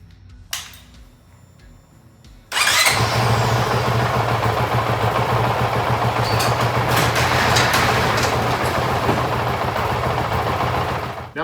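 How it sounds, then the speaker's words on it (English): A Honda CRF 450 RL dirt bike engine starts and warms up, running at a steady, loud idle close by for several seconds without any talking. "The first thing I'm going to do is warm the bike up to ensure a complete and rapid drain."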